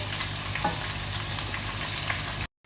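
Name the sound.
chicken pakoras deep-frying in oil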